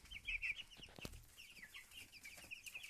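Cobb 500 broiler chickens cluck and chirp faintly in a poultry house, with soft scattered calls and small shuffling noises at a distance.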